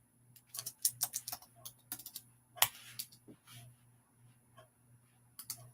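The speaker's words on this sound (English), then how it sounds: "let me see if I can type his name in" Typing on a computer keyboard during a livestream: bursts of quick, light key clicks in irregular clusters, with pauses between them over a steady low hum.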